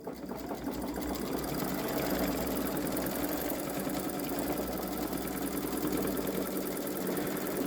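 A Babylock Solaris Vision embroidery sewing machine stitches out an edge-to-edge quilt design, a loud, steady, rapid mechanical chatter running continuously at close range.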